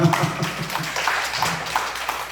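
Church congregation clapping together, a steady patter of many hands at moderate loudness, with a voice faintly mixed in underneath.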